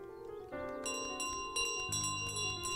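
Bell carried by the goose in Untitled Goose Game jingles repeatedly in bright, ringing bursts while the goose runs, layered over the game's lively piano music, with no talking.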